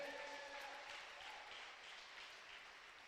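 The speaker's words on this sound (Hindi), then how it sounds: "क्या एक जोरदार ताली बजाएं प्रभु के लिए।" A church congregation applauds in praise, a dense, even wash of many hands clapping that holds steady and fades slightly toward the end, with no voices over it.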